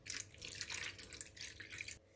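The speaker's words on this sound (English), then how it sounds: "then I'm just going to add some water to thin it up" Water poured into a chicken pasta sauce made with Greek style yogurt, a soft trickling and splashing pour for about two seconds before stopping, faint and close with no talking.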